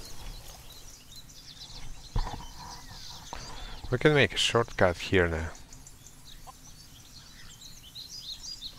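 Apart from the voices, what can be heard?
chickens clucking in video game Craft The World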